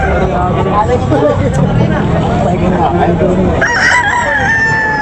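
Chickens and roosters at a poultry market in Tabunok, Cebu, cluck and crow, with a loud rooster call near the end, over a constant babble of voices and market bustle.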